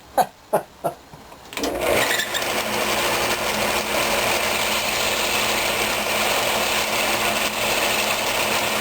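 A wood lathe turns a walnut table lamp. A few sharp knocks come first, then the machine settles into a loud, steady whirring hum with a faint scraping hiss that runs to the end.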